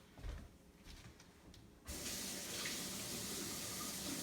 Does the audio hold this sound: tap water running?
yes